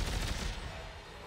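Rapid turret gunfire in the Dead Space 3 video game, a dense burst of shots that fills the whole moment at steady loudness, fading slightly toward the end.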